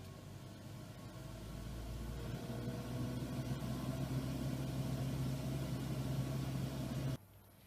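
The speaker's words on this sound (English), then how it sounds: "we place them for a spin in the bench centrifuge at 4000 RPM for 10 minutes to get the pellet" A bench centrifuge spins at 4000 RPM with a steady, low, faint humming whir that builds slightly, then cuts off abruptly near the end.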